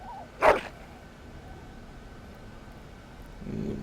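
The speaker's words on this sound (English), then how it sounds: "Dog Whines" A mabari war dog in Dragon Age: Origins lets out one short, sharp whine or yelp, followed a few seconds later by a low, soft grumble against a quiet background.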